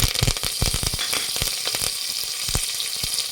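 Curry leaves hit hot oil that already holds spluttered mustard seeds for a pepper sambar, setting off a loud, close sizzle with sharp pops that settles into steady frying.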